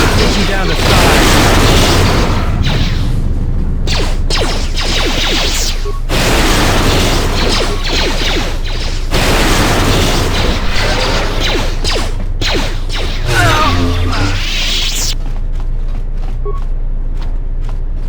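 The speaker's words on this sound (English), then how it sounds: "I got hit by a grenade. I just barely missed the whole blast." A grenade blast in the Star Wars game KOTOR II lands amid a loud, dense battle mix of booms, bursts and clatter. The deep thumps keep rolling, and the dense noise thins out near the end.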